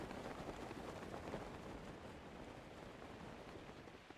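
Steady, dense hiss of heavy rain falling in the video game Zelda: Breath of the Wild, a continuous wash with no breaks, fairly quiet and alone.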